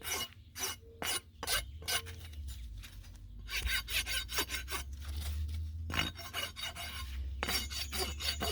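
A rasp files a horse's hoof during trimming, a close, rough scraping in repeated strokes that come in rhythmic runs with short pauses between them, with no voices.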